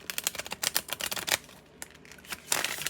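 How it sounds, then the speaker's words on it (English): Oracle cards riffle and snap in quick bursts of crisp, close clicks, shuffled by hand in two runs separated by a short pause. "I'll shuffle the card 3 times"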